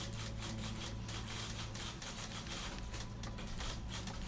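Many typewriters clacking at once in a video game, a dense, steady wash of overlapping mechanical key strikes over a low hum, continuous and fairly distant throughout.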